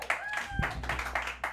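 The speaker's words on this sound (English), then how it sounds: "Make some noise." Audience in a small Harlem speakeasy jazz club clapping for a band member, a short burst of quick, uneven claps with voices mixed in.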